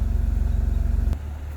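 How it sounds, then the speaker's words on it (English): Stock-exhaust 1999 BMW M Roadster engine idling close by, a steady deep pulsing rumble that shifts lower and quieter after a brief click near the end. "So I'm gonna let this thing run for a minute"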